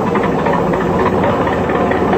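A four-cylinder engine runs on a water-derived gas mixture, a loud, steady, close drone with a low rumbling pulse and no pauses.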